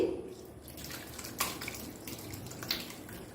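Curdled milk chhana is poured from a pot into a cotton cloth set over a strainer on a bowl, making a soft, faint trickle and splash of draining whey with a couple of light knocks, quiet and close.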